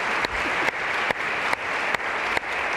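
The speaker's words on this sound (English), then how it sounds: "Let's give him a round of applause." Audience applause for a musician at a Talent Forward event: dense, even clapping throughout, punctuated by a few sharp regularly spaced clicks.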